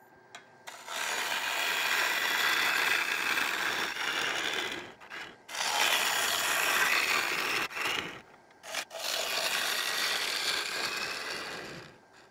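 A 19 mm Thompson bowl gouge cuts into a mango crotch blank spinning on a wood lathe, giving long rough scraping passes broken by brief pauses, close and fairly loud.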